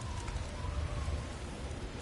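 Steady storm rain in the video game God of War Ragnarök, a dense, even hiss with a low rumbling underneath, continuous and fairly quiet, with no voices.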